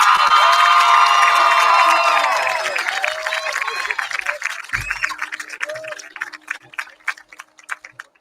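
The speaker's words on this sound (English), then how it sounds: "Please give a round of applause to our 2021 Lakeside homecoming queen" A crowd at Lakeside School's 2021 homecoming cheers for the homecoming queen, loud whoops and high-pitched shouts at first, then settling into scattered clapping and cheers that fade toward the end.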